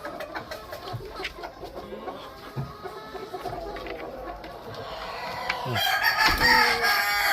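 An old rooster crows loudly and close on a farm, its long call rising toward the end, with clucking and scattered farmyard noise around it and no talking.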